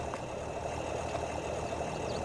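An older truck idles in the farming game Farming Simulator 22, a quiet, steady engine drone with a faint rough texture, heard alone without talk.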